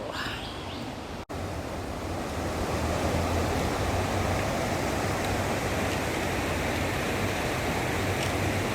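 The Sangkuriang river in Sentul flows with a loud, continuous rushing wash close by, broken by a brief handling thump early on.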